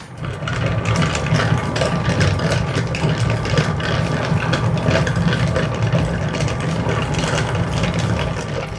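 Rock tumbler motor, empty with no rocks loaded, runs with a steady mechanical whir and fine ratcheting rattle, close and continuous without pause.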